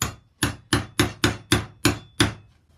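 Eight sharp hammer blows strike a small punch, driving a track pin into a wooden sleeper while laying TT:120 and OO/HO Peco flexible model railway track, evenly spaced, close and loud, with no talking.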